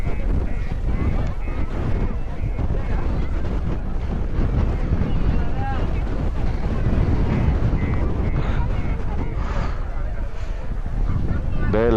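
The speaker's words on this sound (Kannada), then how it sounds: "ಹೆವಿ ಗಾಳಿನೇ ಬರ್ತಾ ಇತ್ತ, ಏನು ಕೇಳಿಸಲ್ಲ" Heavy wind buffets the microphone on the coast at Dhanushkodi, a loud, continuous low roar that smothers everything for the full length, with faint voices and vehicle sounds buried beneath.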